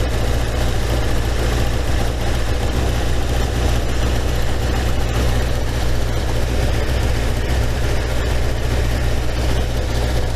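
A 1987 Kawasaki GPZ600R (ZX600A) four-cylinder motorcycle engine idles steadily close by, with cylinder 3 running slightly strong and cylinder 4 slightly weak. The low, even rumble carries on without a break and no one speaks.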